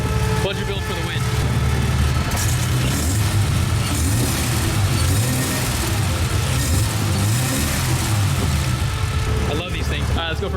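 The engine of a turbocharged BMW E30 budget build with a $150 eBay turbo runs loudly and steadily close by, its pitch rising and falling as it revs, and people talk over it.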